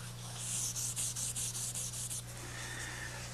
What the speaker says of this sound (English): Well, maybe one more patch and a little bit of final sanding,